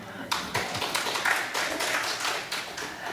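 Applause from a church Bible study audience, a short round of scattered hand clapping that builds quickly and stays steady, moderately loud and close, with no talking.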